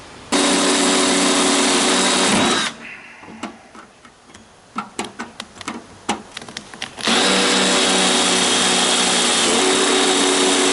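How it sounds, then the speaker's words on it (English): A power drill bores and countersinks bolt holes in an overlander pop-top roof, the loud continuous whir broken by a stretch of quieter clicks and short bursts before the drill roars steadily again. "I'm going to finish drilling all of these holes and countersinking the"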